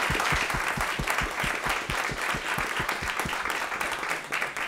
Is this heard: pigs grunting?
no